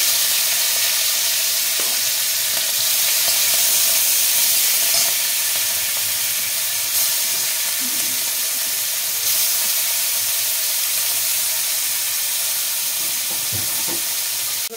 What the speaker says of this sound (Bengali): প্রথমে কড়াতে তেল দিয়ে দিচ্ছি অল্প করে, চিংড়ি মাছটা একটু ভেজে নেব।